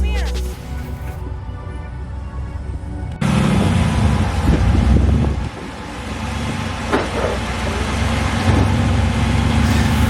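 An off-road rock crawler creeps slowly over boulders with a steady, loud, close engine rumble that rises sharply partway through and holds there, with intermittent knocks and scrapes. Voices talk beneath the engine noise.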